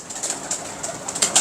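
A pigeon, one of a fancier's breeding birds, coos in short soft bursts close by, with a light rustle of feathers or wings between calls and no one talking.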